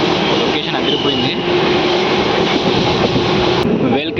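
A DEMU passenger train on the Raichur–Guntakal line rolls into Adoni station, a steady close-up rumble of wheels and engine heard from on board.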